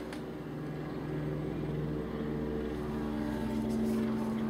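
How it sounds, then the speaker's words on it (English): An air ambulance helicopter passes low overhead, giving a steady, droning rotor and engine roar that grows slightly louder throughout. No voices are heard. "I can hear a helicopter. That sounds rather like the air ambulance flying around."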